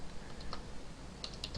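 Computer keyboard typing close by, a handful of light, quick key clicks in an irregular burst over a faint background hum, no talking.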